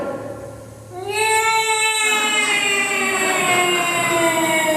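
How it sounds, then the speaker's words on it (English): A loud siren winds up and wails steadily, rising in pitch, heard close with no talking over it, sounded on Christmas in the town of Bedford Falls. "turn the sirens wide open"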